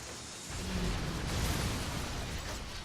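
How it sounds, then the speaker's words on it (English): Dense, rumbling explosions from the inFamous video game, a sustained loud wash of booms and bursts that swells after a brief quieter opening and carries on for nearly three seconds with no talking. "How do you feel about some of these explosions?"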